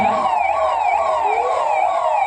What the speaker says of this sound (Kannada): ಆಂಬುಲೆನ್ಸ್ ಆಗಮನವಾಗಿದೆ.